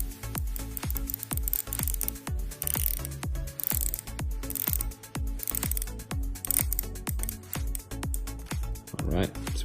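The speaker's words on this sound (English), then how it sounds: "See how the bezel click." The rotating bezel of an Out Of Order Casanova watch ratchets round in a steady run of close, crisp clicks, with a person speaking over part of it.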